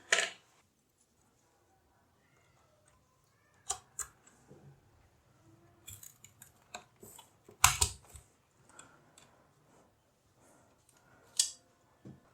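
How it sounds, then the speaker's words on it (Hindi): A DDR4 RAM stick pressed into a motherboard slot while building a gaming PC: scattered faint clicks and plastic taps, close up, with sharper snaps near the start, middle and end amid near silence. "तो आपको इन कट्स को मैच करके इस रैम को इंसर्ट कर लेना है इस मदरबोर्ड में।"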